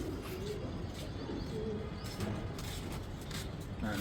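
Many pigeons being vaccinated coo steadily close by, overlapping soft throaty calls over a constant low background hum.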